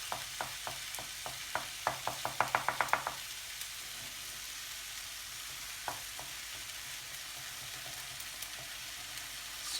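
Eggs frying in a pan for Thai fried rice, a soft steady sizzle with a quick series of sharp taps early on, then a quieter hiss with an occasional knock.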